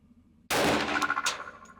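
A single sharp, loud shot from a Glock 20 SF Gen 3 10mm pistol at an outdoor range, fired at a target 10 yards away, followed by a ringing echo and clatter that fades over the next second.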